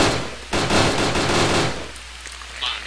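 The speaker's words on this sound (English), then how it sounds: "That was AI shooting at them" AI soldiers in Arma: Cold War Rearmed fire rapid automatic bursts, a dense, loud crackle of gunfire that runs for about a second and a half and then thins into scattered shots.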